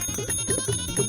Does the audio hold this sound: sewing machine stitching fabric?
no